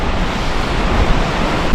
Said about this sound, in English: This is a beach, not the most beautiful beach.